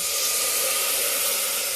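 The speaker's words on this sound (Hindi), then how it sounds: "और डालते हैं थोड़ा सा पानी," A splash of water added to a hot pan of frying tomatoes produces a loud, continuous steamy hiss lasting under two seconds.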